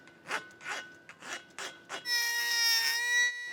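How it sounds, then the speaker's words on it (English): Hand file rasping across the main cap registers of an engine block for a classic Camaro build, five distinct rhythmic strokes followed by a sustained bright scraping pass, close and alone with no talk. "We'll go through and deburr any sharp edges using a hand file on the main cap registers and the main bearing"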